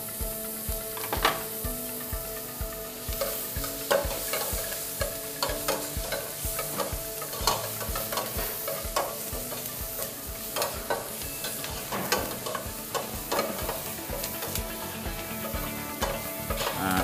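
Garlic and onion sautéing in a pan for cream of carrot soup: a continuous sizzle with frequent rhythmic scraping and stirring clatter from a utensil, close and fairly loud throughout.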